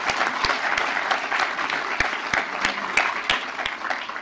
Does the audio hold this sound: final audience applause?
yes